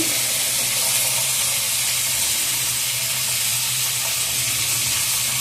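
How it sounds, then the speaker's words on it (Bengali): Onions with turmeric and salt fry in a pan, making a dense, steady, close sizzle that holds at an even loudness throughout with no voices. "এবার আমি পেঁয়াজটাকে ভাজা ভাজা করে নেবো"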